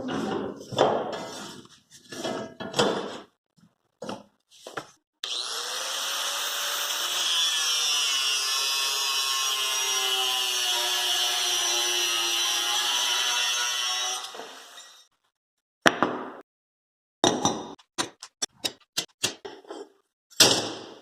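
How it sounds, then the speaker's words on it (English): Metal end pieces being ground flat on a grinder for a forge-welded Damascus billet: several short rough bursts, then a long steady loud grinding whine for about nine seconds, followed by more brief intermittent bursts, close and without talk. "I'm just going to take basically as long of a section as I can get out of these very end pieces and grind them off"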